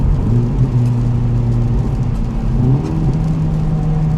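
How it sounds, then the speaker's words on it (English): Honda Civic Type R with its exhaust resonators deleted, heard through a downshift as the engine note drops and then climbs again in a short, fairly loud in-car burst with no talk. "Let me do a downshift."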